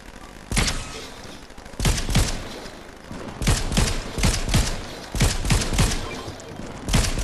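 Rapid bursts of gunfire from the Fortnite video game, sounding like a war zone: several sharp volleys of automatic fire separated by short pauses, loud and close, with no talk over them.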